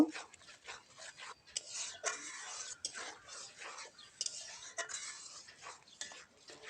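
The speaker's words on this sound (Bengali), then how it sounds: "মশলাটাকে সুন্দর করে কষিয়ে নিতে হবে" Spoon scraping and stirring a masala of salt, coriander powder and cumin powder in a pan, with soft rasping strokes in bursts, close and fairly quiet.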